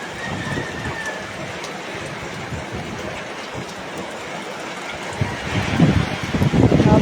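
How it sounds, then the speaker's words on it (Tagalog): Steady typhoon rain from Typhoon Kristine hissing outdoors with gusty wind noise, growing heavier and closer toward the end. "umuulan na naman"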